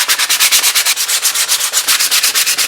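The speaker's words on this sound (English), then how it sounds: "now I'm going to hit it, I think, with 60 grit, just to get all the grains running this way" Rhythmic back-and-forth scraping of 60 grit sandpaper on a wooden katana handle, loud and close, with steady rapid strokes and no voices.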